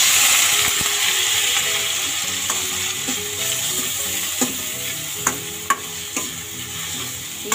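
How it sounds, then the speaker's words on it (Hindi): Tapioca pearls (sabudana) fry in ghee left over from frying dry fruits, a loud steady sizzle with scraping and clinking of a spoon stirring in the pan, with no voices. "अब हम ये एक कटोरी जो हमारा साबूदाना है उसको इस बचे हुए घी में तल लेंगे।"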